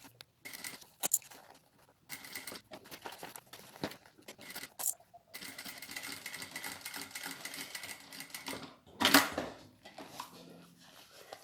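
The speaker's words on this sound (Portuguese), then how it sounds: "Baixei aqui a velocidade da máquina para o mínimo para eu costurar bem devagar" A sewing machine set to its lowest speed stitches slowly on a fabric toilet paper holder, a steady soft mechanical run with a few louder bursts and crinkling handling noises.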